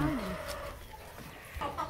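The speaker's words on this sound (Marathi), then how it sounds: "अशा कोंबड्या आहे सगळ्या गावरान कोंबड्या" Free-range village chickens cluck and murmur nearby in a rural yard, with soft overlapping calls and some background noise.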